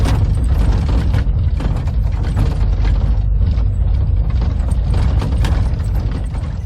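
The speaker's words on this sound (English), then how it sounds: "You can hear the gunshots still going off" Gunfire at night in Manipur, with mortars, light machine guns and assault rifles: dense continuous crackling and popping bursts with deep rumbling booms, loud and unbroken throughout.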